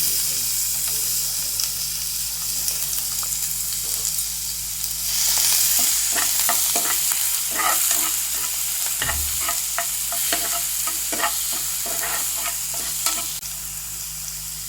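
Finely chopped garlic, about ten cloves, drops into roughly three spoons of hot oil and fries with a steady close sizzle, with a burst of louder crackling and irregular spoon scrapes and taps through the middle.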